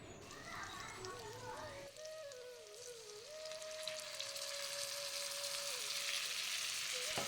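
A spice paste of coriander, cumin, chilli powder, turmeric, salt and ginger mixed with water hits a hot kadai, and a bright sizzle swells and holds loud while a wavering tonal sound runs faintly underneath.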